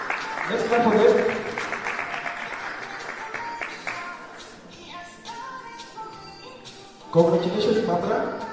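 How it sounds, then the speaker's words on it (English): Audience clapping for graduates at an inaugural graduation ceremony in a hall, a burst of applause that fades, then picks up again near the end, with voices speaking over it. "Let's clap for them."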